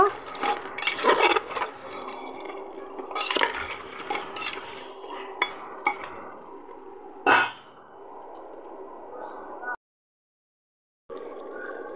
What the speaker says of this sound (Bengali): আমি একটু সুন্দর করে নেড়ে চেড়ে নেব